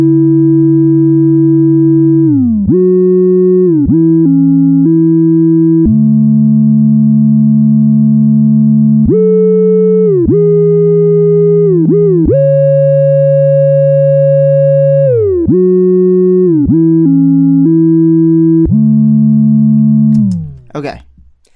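A synthesizer lead built in Serum plays a bright, sustained melody with gliding pitch bends between held notes, loud and alone, ending with a brief burst before cutting off.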